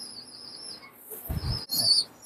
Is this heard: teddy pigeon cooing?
yes